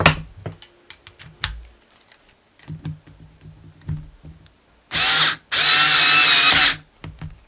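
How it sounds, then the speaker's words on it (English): A cordless power drill drives parts together during a Losi 5ive T kit build, two loud sustained whirring bursts after scattered clicks and handling noises on a workbench. "we can switch to our drill"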